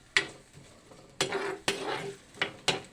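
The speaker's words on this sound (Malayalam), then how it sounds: "അപ്പം എന്താ ഇത് നമ്മൾ ഇനി നന്നായിട്ടൊന്ന് മൂപ്പിച്ചെടുക്കണം" Ginger being stirred and roasted in a pan for Kerala chammanthi podi, with a spoon scraping and clinking against the pan in several distinct strokes over a faint sizzle, near and clear with no talk.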